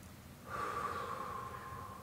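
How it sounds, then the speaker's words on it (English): A deep breath drawn during a seated workout, a steady airy rush that starts about a third of the way in and holds close and clear to the end, with no talking over it. "Take a breath."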